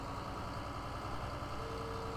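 An Ursus tractor engine from Farming Simulator 2013 idles and runs steadily in a low, continuous drone, with no talking over it.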